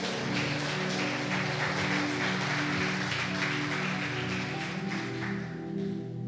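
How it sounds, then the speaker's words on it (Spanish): A church congregation applauding, with continuous clapping over sustained musical tones in the background and no pauses. "Dele un aplauso a la palabra"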